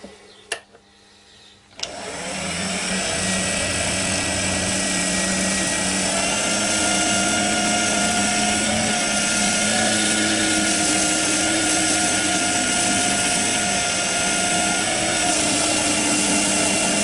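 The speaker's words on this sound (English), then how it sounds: "I'm going to now knock it back with the Scotch pad." After a quiet couple of seconds, a wood lathe spins a walnut bowl as a Scotch pad knocks back the sanding sealant. It makes a loud, steady whirring rush that continues unbroken to the end.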